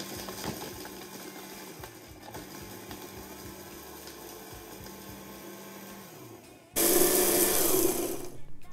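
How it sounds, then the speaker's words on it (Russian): A Braun blender crushes hard, dried oatmeal cookies, starting with a low rattling motor hum and then jumping to a loud, bright, steady whirring roar for the last two seconds, close up with no talk. "Здесь я измельчу засохшее овсяное печенье."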